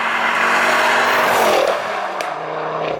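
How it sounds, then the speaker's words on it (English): A modified Ford Focus RS Mk2 with over 400 bhp and a popping exhaust, a loud, close, raspy engine roar that holds high and then eases off as the revs drop. "The whole car literally just comes alive, you know, the sound of it, it literally does sound like a rally car."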